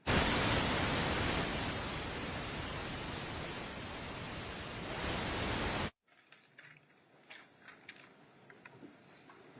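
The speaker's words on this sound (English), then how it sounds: "Put the white noise on" White noise plays in a courtroom as a loud, steady hiss covering everything for about six seconds. It then cuts off abruptly, leaving quiet room sounds.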